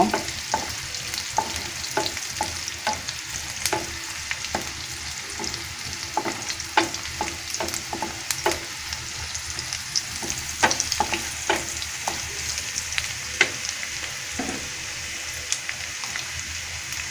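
Bay leaf, cardamom and cinnamon fry in oil with onion for a Bangladeshi beef korma, a steady sizzle broken by repeated scraping stir strokes, close and continuous with no talk.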